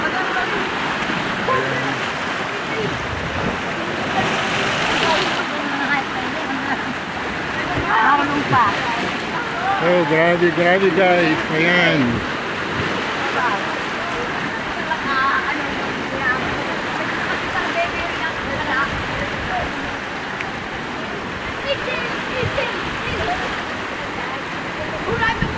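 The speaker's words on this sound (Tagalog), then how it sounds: "So ang laki na yan, high tide ngayon, saka lakas ng habagat." Strong sea waves surge at high tide during a monsoon storm at Bulan, Sorsogon, Philippines, a steady loud roar of rushing water throughout, with someone talking excitedly over it and a brief louder swell midway.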